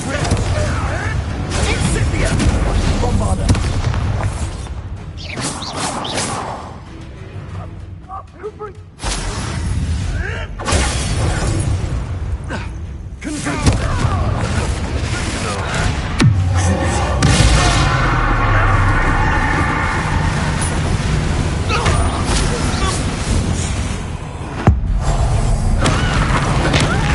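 Repeated Bombarda spell explosions from the video game Hogwarts Legacy, loud booming blasts and thuds over game music and combat noise, with a player shouting spell names throughout.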